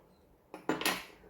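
Metal spoons clink against each other and dishware while yogurt-making tools are handled, three quick close clatters after a quiet start, the last two ringing slightly longer.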